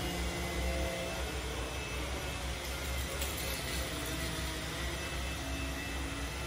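A Samsung Jet 75 cordless stick vacuum runs on its minimum power setting, giving a steady, even broadband whir with a faint high whine, constant and unbroken throughout with no voices.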